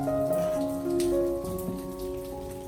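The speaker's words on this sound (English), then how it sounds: "After soaking the banana peels for 30 minutes, I strain out the residue and keep only the nutrient-rich liquid." Banana peel soaking liquid is strained to remove the residue, making a steady, soft patter of trickling and dripping liquid with faint tones in the background.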